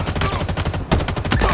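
Rapid gunfire from a Halo Infinite multiplayer match, a dense stream of loud repeated shots with a sharp burst near the end and no talking.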